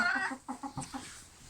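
A chicken clucks in a quick run of short, close calls, then trails off into quieter background.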